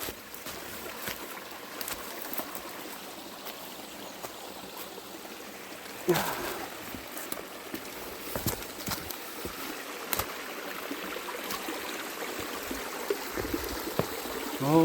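A mountain valley stream in winter runs with a steady, moderate flow, and irregular knocks and splashes break through a continuous watery rush.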